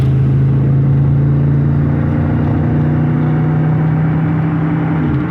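A pickup truck engine with an aftermarket transmission cooler drones loudly from inside the cab, a steady low hum with road rumble as it accelerates to 65 mph.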